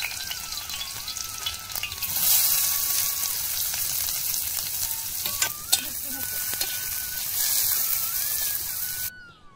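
Cumin, onion and crushed garlic frying in a little oil in a village kitchen, a loud continuous sizzle with occasional stirring scrapes and a faint whistling tone in the background.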